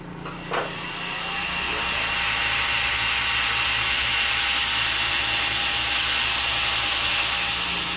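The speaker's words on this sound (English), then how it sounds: "So we're going to sand that out of there." Power sanding on a Kydex knife sheath: a tool spins up after a brief knock and then runs as a loud, steady whir with rubbing grit noise that continues to the end, no talking.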